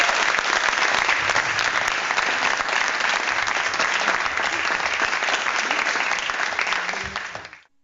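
A canned applause sound effect of a large crowd clapping steadily and loudly for about seven seconds before tapering off abruptly at the end.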